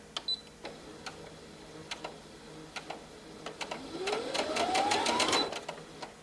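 A Brother SE 1900 sewing machine starts sewing: a few separate clicks first, then a rising motor whine with rapid needle clatter that builds and runs steadily for a couple of seconds, fairly close and clear with no talking.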